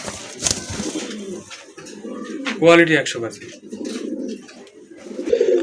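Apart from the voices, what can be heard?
pigeons cooing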